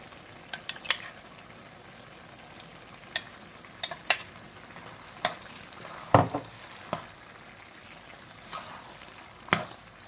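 Shrimp frying with pumpkin in a pan, Guyanese style, heard as a low steady sizzle broken by scattered sharp clicks and stirring scrapes, close up and with no talking.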